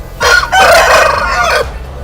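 A large jumbo rooster at an ekor lidi chicken contest in Pekalongan gives a single loud, close crow of about one and a half seconds, rising then held.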